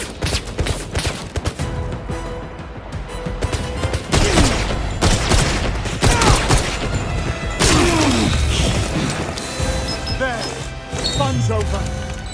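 Hacked automated turrets open fire in the video game Pragmata, producing dense, sustained bursts of rapid gunfire with crashing impacts and mechanical clatter beneath a loud game soundtrack.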